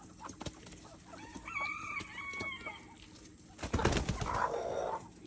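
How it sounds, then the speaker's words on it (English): Barred rock chickens cluck and murmur in a backyard flock, several birds calling in short overlapping phrases at moderate distance, with a louder burst of scuffling and rustling partway through. "I got a barred rock hen."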